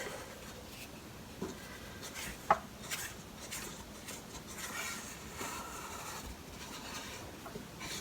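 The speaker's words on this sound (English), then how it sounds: "Let's scrape the sides." A utensil scrapes the sides of a bowl of cinnamon roll dough with soft, irregular rubbing strokes and a few light knocks, quiet and close with no talking.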